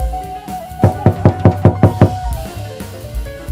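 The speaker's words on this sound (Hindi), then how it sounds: "थोड़ी देर बाद जब टूनी और टुनटुनी खाना खाने बैठती है तो दरवाजे पर दस्तक होती है।" A rapid series of about eight sharp, evenly spaced knocks on a door in a Hindi cartoon, loud and close, with a soft musical bed continuing underneath.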